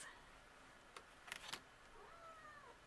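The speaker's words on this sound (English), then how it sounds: "Kitty cat." An indoor house cat gives a few short, faint meows in a quiet room, with soft mewing trailing off near the end and no one speaking.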